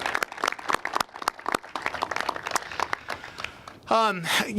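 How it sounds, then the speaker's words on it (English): Applause from a crowd at a groundbreaking ceremony honoring commissioners, crisp scattered claps for several seconds before a voice starts speaking over the tail. "Can we give the commissioners a big round of applause for all they do?"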